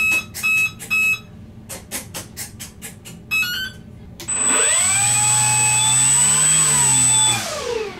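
An Extra 300 RC plane's electric motor sits at full throttle during setup, starting after a run of electronic programming beeps and then holding a loud, steady whine with a high tone for several seconds.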